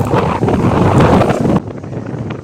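Wind buffeting the microphone outdoors on an exposed, windy stretch during mushroom foraging, a loud, rumbling roar that cuts off abruptly to a quieter hiss.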